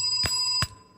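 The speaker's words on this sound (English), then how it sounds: "This bell is going to go in the file 86." Bell on a call-in radio show struck twice, two sharp bright rings with a steady ringing overtone between them, close and loud, the second strike fading out.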